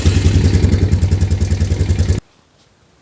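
A 1999 Honda Recon ATV engine runs loud and close at a steady idle with a rhythmic, chugging pulse, then cuts off abruptly into near silence.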